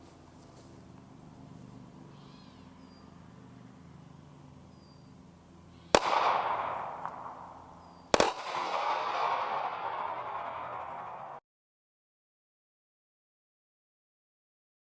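Two loud, sharp gunshots from a SIG P238 pistol firing .380 ACP at a polished foil ball outdoors, each blast followed by a ringing decay, against quiet background hum.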